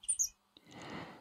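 A blackbird at a garden wildlife pond gives two short, faint chirps, then a soft rustling wash of outdoor noise follows, quiet and close with no talk.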